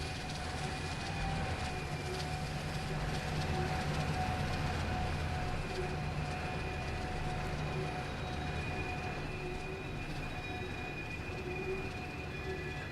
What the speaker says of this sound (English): You can hear the brake squeal.